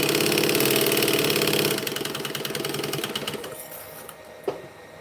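A domestic sewing machine runs in a fast, steady rapid-fire stitching rhythm, then slows for back stitching and trails off into a few slower stitches, close and alone with no talk.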